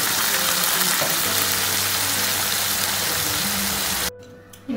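Garlic mushrooms simmer in a pan with a steady, loud broadband sizzle and bubbling that runs nearly the whole time, then cuts off abruptly near the end.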